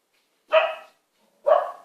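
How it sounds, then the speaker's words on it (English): A dog barks twice in a quiet room, two short, close, sharp barks about a second apart. "That's my dog barking,"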